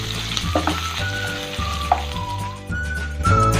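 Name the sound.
sliced onion and green chilli frying in a pan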